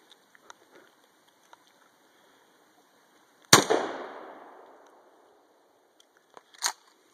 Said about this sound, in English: This is Jesse shooting my new Benelli shotgun.